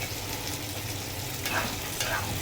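Green chillies and tomatoes sizzle and fry in a pan for prawn curry while being stirred, a steady close hiss broken by a couple of scraping stirs.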